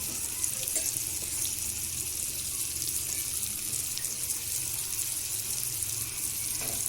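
Onion, capsicum and tomato sizzle in a pan for chilli chicken, a continuous crackling hiss with faint scraping, heard alone without talk.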